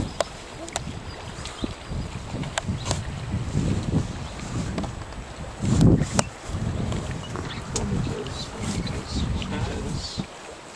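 Sailboat motoring at reduced speed through a narrow, tree-lined rocky passage, with steady water rush and wind noise against the hull, a louder surge near the middle, and people talking faintly over it.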